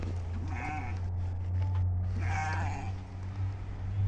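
Santa Inês sheep on a farm, a ewe that has just given birth, bleating twice in close succession, each call a wavering, drawn-out cry over a steady low rumble.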